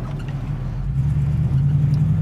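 A 1973 Buick Riviera cruises along the road, its engine a steady low rumble with road noise that swells slightly as the car moves, heard from inside with no talking.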